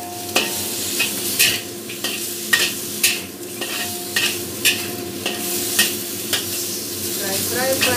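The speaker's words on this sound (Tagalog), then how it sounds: "Fry, fry, fry like this until the pork become what it is." Pork sizzling in a pan with ginger, garlic and onion, stirred with regular utensil scrapes and clacks over a steady, close frying hiss.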